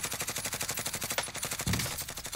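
Rapid, evenly spaced gunshots ring out in Call of Duty Warzone, a continuous close burst of automatic fire lasting a couple of seconds.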